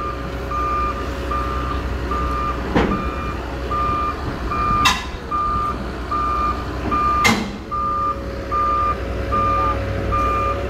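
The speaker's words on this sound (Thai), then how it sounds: "เดี๋ยวชมวินาทีการลงเทเลอร์ของรถขุดนะครับ" At the unloading of an XCMG EX215c excavator from a large trailer, regular reversing beeps sound steadily throughout over a low machinery rumble, with a few sharp clanks and hisses breaking in, and no talk.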